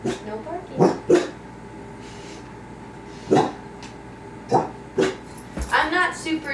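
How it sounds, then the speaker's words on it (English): A dog indoors during a home yoga session gives several loud, close barks spaced apart, with softer whimpering yips between them and a cluster of quicker yelps near the end over a low background hum. "Zenna, no barking."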